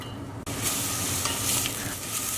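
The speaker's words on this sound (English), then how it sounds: "we'll start by adding in 2 tablespoons of olive oil, and we'll start by adding in our onions." Onions frying in olive oil in a small pot over medium heat, a close, steady sizzle with faint stirring scrapes, briefly dipping early on and then hissing continuously without talk.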